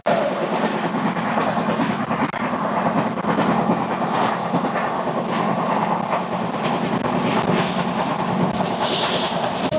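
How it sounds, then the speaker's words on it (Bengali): Howrah–Kalka Netaji Express, train number 12311, rolling past close by with a steady loud roar and rhythmic clickety-clack of wheels over rail joints, continuous for the whole stretch with no voices. "এবার আমাদের সঙ্গে দেখা হবে ট্রেন নাম্বার 123-11 হাওড়া থেকে কালকা নেতাজি এক্সপ্রেস"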